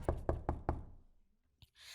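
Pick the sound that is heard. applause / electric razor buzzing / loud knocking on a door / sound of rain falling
loud knocking on a door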